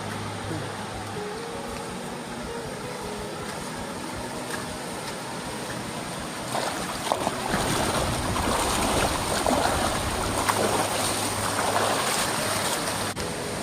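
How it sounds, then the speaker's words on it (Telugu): Dumpavalasa waterfall near Maredumilli, reached by a short walk from the road under cloud and light rain: a steady broadband rush of falling water that grows noticeably louder and closer about halfway through. "జస్ట్ రోడ్ నుంచి ఒక వంద మీటర్లు నడుచుకొని వస్తే ఇక్కడే వాటర్ పడుతుంది"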